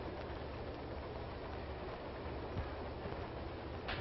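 Inside a moving train carriage, a steady rumbling roar of wheels and car noise fills the space, continuous and fairly loud with faint rattles.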